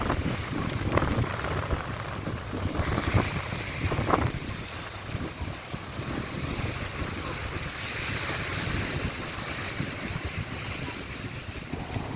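Strong sea waves roll onto the shore at storm-hit Infanta, Quezon, a loud, continuous surf roar mixed with heavy wind buffeting the microphone.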